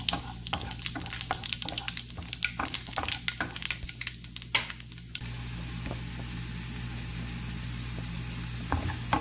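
Panch phoron spices sizzle in hot oil for a mixed vegetable dal, a loud crackling hiss full of sharp pops for about five seconds, then easing into a steadier, softer sizzle.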